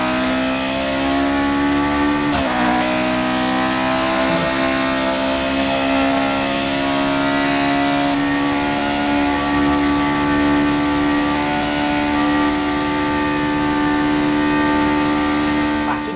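A 1982 McLaren Formula 1 car in the F1 2018 racing game screams loudly as it accelerates, its engine pitch climbing steadily, with a brief dip at a gear change early on, then a sustained high whine.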